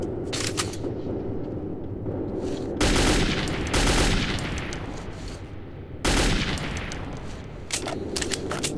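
Gunfire in the video game Metro 2033 comes in loud, dense bursts of rapid shots, with two heavier volleys standing out among quieter stretches of scattered firing.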